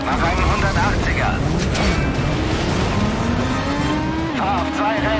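Car engine in the video game Stuntman Ignition drones steadily with rising and falling pitch as the car swings through a 180-degree spin, tires scrubbing, with game music and a voice over it throughout.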